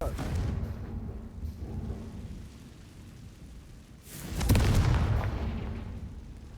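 A Confringo fire spell from Hogwarts Legacy bursts into a deep, booming explosion that swells loudly and rolls away, following a shouted incantation and a quieter rumbling stretch.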